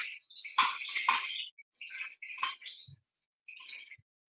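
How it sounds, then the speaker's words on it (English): Water runs over thinly sliced red onions in a colander, rinsing in several splashy bursts separated by short pauses, close and moderately loud with no talking. "I'm gonna just gently rinse them"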